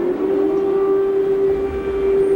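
An air raid siren wails over a city under attack, a single loud, sustained steady tone ringing out over a low rumble of background noise.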